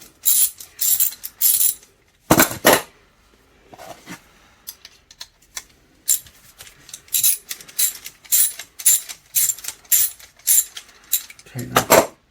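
A ratchet clicks in quick, loud bursts as it undoes a bolt on a Honda Goldwing heel-and-toe footplate. The strokes are close and repeated, with short pauses between them.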